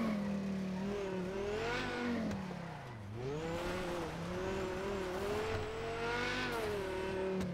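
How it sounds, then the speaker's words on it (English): A car engine in a racing video game revs and slides off-road, its pitch rising and dipping over tire squeals and skids at a faint, steady level. "This car is so shit off-road, like Jesus Christ"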